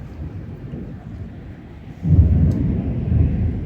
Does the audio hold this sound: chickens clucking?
no